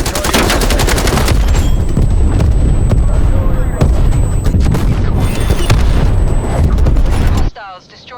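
An artillery strike in Call of Duty Black Ops Cold War lands as loud, continuous booming blasts mixed with rapid gunfire for about seven seconds, then cuts off abruptly to quieter game sounds.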